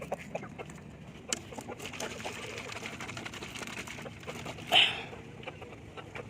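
Native chickens cluck softly amid a busy, continuous background of low farmyard noise, with one louder, sharper call standing out near the end.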